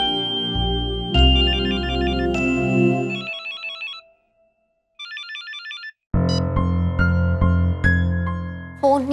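An unanswered phone ringtone plays a bright, melodic electronic tune that repeats in loud bursts, drops to a near-silent pause, then rings again at full volume over a busy, layered backdrop.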